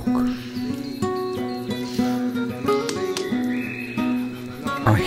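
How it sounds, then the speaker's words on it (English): Rainforest ambience from Tarra Bulga in Victoria, Australia, with chirping birds and insect-like calls layered over soft background sound and tonal music, steady and fairly close throughout. "I hear the wind, the animals, the birds."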